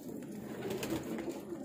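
Pigeons kept for sale coo softly in low, repeated murmuring notes, faint and close with a quiet background hum.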